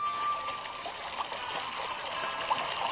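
A waterfall in the video game Harvest Moon makes a steady, soft hiss of rushing water throughout, with no voices heard.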